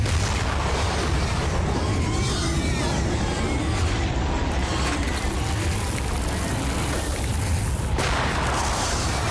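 Bomb explosions in a Telugu action film scene make a sustained, loud roaring rumble that fills the whole stretch, with faint voices beneath.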